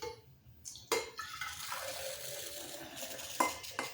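Liquid poured into a coffee maker's reservoir late at night, a quiet trickling stream broken by a few sharp clinks and knocks of the container against the machine, close by with no talking.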